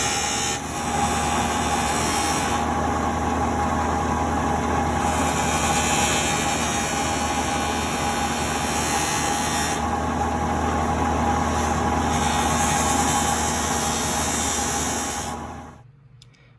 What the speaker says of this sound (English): after a few minutes on the buffing wheel, it's looking good